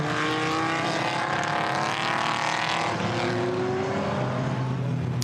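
GT4 race cars pull away together at the start of a formation lap at Zandvoort, a steady loud engine roar with rising and shifting tones that fills the whole stretch, no voices over it.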